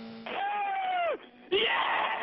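A racing driver screaming with joy moments after crossing the finish line to win the season-ending Abu Dhabi Grand Prix, a loud sustained yell that breaks off, then a second shout.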